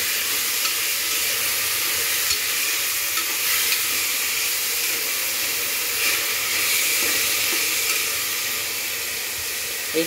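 Onions and moth beans being stir-fried in a pan give a steady, close sizzle with soft stirring scrapes throughout, and no one speaks.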